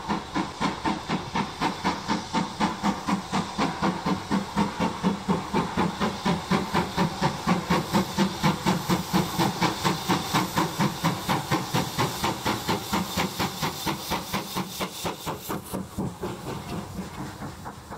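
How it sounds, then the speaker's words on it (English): A steam locomotive passes directly below, its engine chuffing in a steady, rapid rhythm under a continuous hiss of steam, loud and close throughout, easing slightly toward the end. "I like to stand directly over where the engine passes, and the sound is recorded by the camera"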